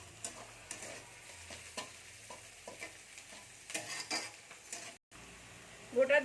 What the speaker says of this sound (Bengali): এটা আমি ভেজে নিই একটু